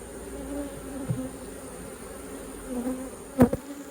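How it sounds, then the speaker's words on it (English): Angry honey bees buzz close by around a hive in a sustained drone, with a few sharper passes and a brief louder burst near the end. "you can see these bees getting after me"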